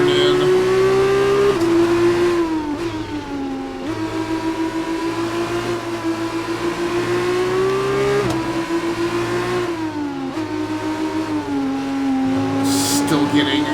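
A Formula 1 race car engine in an F1 racing video game screams at high revs continuously, pitch rising through each gear and dropping sharply at shifts, loud and close throughout.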